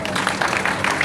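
Classroom group claps for a student during a programming lesson, a brief burst of scattered hand claps from several people nearby, with some voices mixed in.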